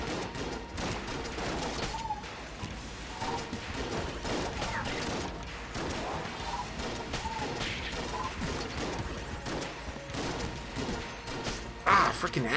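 Rapid, dense weapon fire and mechanical clatter from the Void Shotgun in the game Enter the Gungeon, continuous and busy throughout, with a person talking faintly underneath.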